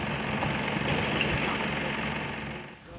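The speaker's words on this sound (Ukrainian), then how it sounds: "у нас ущільнює ще там трактор такий, який ущільнює її" A tractor compacting waste at a city landfill gives a steady, fairly loud engine drone with rough mechanical clatter, holding evenly throughout and easing slightly near the end.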